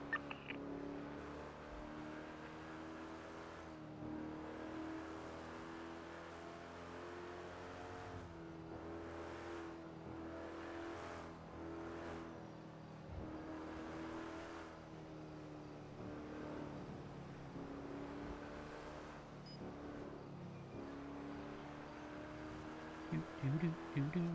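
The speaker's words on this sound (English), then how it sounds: "tow trucks are fucking fast" Tow truck engine in GTA V, a constant mid-distance drone with shifting revs and steady tyre rumble, moderately loud and unbroken throughout.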